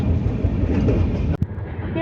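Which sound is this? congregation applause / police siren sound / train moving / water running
train moving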